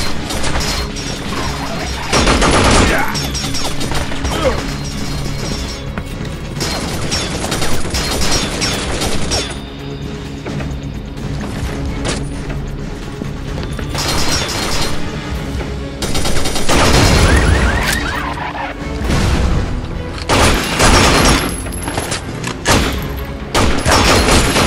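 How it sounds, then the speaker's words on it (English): Heavy machine gun fire in the shooter Binary Domain rattles almost without pause, dense and loud, mixed with metallic clanks and crashing impacts across the whole stretch. "Watch out for that machine gun fire!"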